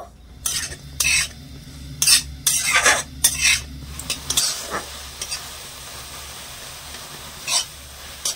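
A spoon stirs and fries a sticky mixture in a pan while jaggery melts, giving sharp intermittent scrapes and clacks over a soft, continuous sizzle, close and alone.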